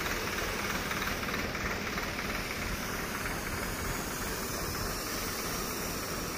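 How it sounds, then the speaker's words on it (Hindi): A Swaraj 744 XT tractor engine running a spray pump machine drones steadily and continuously at close range, with a dense low-end chug and no pauses. "बाकी अपना ट्रैक्टर चल रहा भाई"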